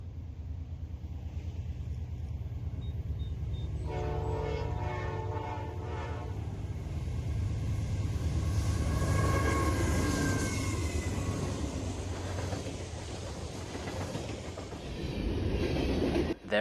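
A train rumbles past with a steady low roar, its horn sounding in several long blasts midway through, wheels clattering beneath.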